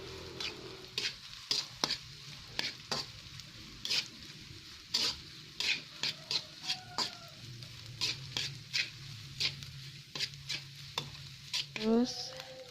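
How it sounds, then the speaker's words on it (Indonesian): Tempeh stir-fried in hot oil, with a continuous soft sizzle broken by frequent sharp scrapes and taps of a spatula against the pan in an irregular rhythm, plus a short squeak near the end. "Kita oseng ya teman-teman, tempenya tuh kita oseng."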